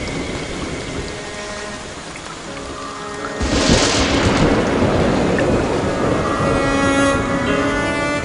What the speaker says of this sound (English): Rain falls in vast quantities in the forest, with millions of litres pouring down each day.